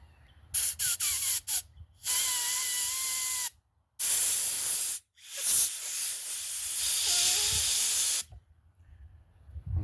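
Short bursts of carb cleaner sprayed into the jets of a Kohler-engined Toro 22-inch Recycler mower carburetor, several close, loud hissing blasts of varying length separated by brief pauses.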